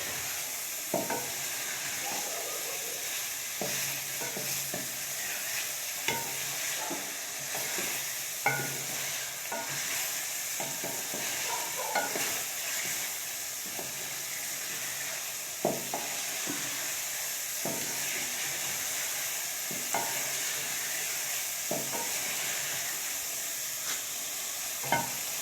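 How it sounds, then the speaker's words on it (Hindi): Chicken fries in a pan with turnip curry on the way, a steady sizzle running throughout while a spoon scrapes and stirs in regular, clattering strokes, close and fairly loud with no talking. "ये देखिए 10 मिनट हो चुके हैं मुझे चिकन को भूनते"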